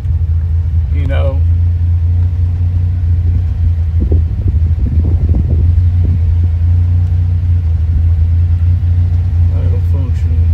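Buick Grand National engine idling steadily, a loud continuous low rumble throughout, with a voice talking over it partway through.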